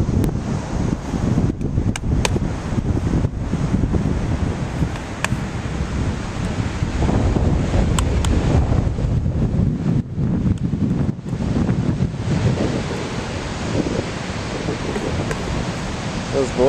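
Ocean waves and strong wind on the beach at Bandon, Oregon, a dense roaring wash of surf with heavy wind buffeting the microphone, loud and continuous, with some faint voices mixed in.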